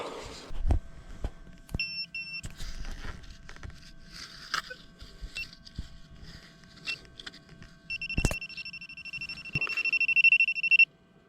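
Short electronic tones from a metal detector sound intermittently, ending in a longer sustained coin-like beep, over faint rustling and quiet background noise.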